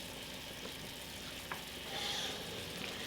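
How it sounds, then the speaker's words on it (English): Curry boils vigorously in a pot on the stove, a steady close bubbling and sizzling hiss with faint clicks and pops, heard on its own without voices. "It's boiling now, the curry."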